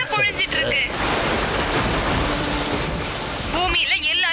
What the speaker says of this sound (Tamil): மேகங்கள் வந்து மழை பொழிஞ்சிட்டு இருக்கு.